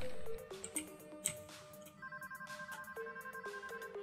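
Telephone ringing in the Payday 2 video game, a repeating electronic ring pattern that is fairly close and clear over quiet game ambience.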